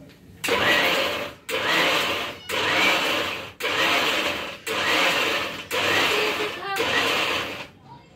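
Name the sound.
mixer grinder grinding crushed masala paste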